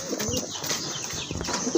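A male pigeon flaps its wings in a few quick, soft flurries, close by and fairly quiet against faint background noise.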